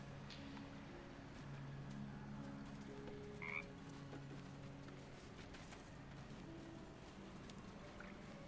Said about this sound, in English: I think there's something very wrong with that frog.